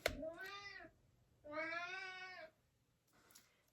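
A cat meows twice, close and clear, each call drawn out for about a second, followed by a fainter, shorter third meow in a quiet room.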